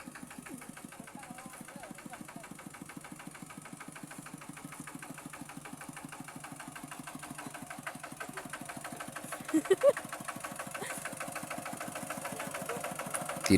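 A car engine ticks over at a steady idle, its even, rapid pulsing moderately loud and unbroken for the whole stretch, with no voices over it.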